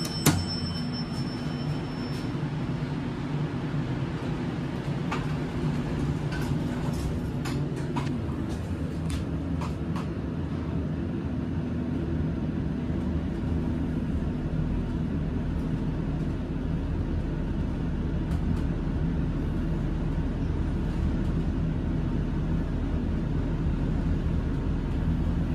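A KONE elevator descending inside the Port Authority Bus Terminal in Midtown Manhattan, a steady low rumbling hum of the moving car with a few faint clicks early on, continuous and close throughout.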